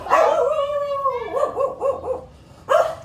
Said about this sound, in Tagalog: yung aso nyo oh